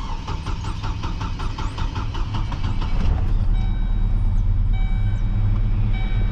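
A Chevy Colorado engine with a misfire cranks and fires up, settling into an uneven, lumpy idle with a low rumbling pulse and a faint high whine, steady and close.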